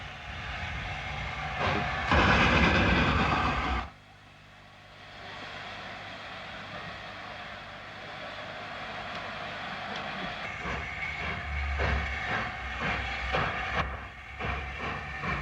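The steam locomotive Sir Nigel struggles to restart its train, a sharp burst of hissing steam followed by a quieter low idle and a growing mix of hisses and mechanical noise, heard from a distance.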